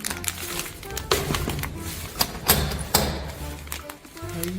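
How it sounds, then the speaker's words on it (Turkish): Several separate knocks on a door sound fairly close, spaced irregularly over a few seconds against quiet room noise. "Hemen kapıyı vuralım."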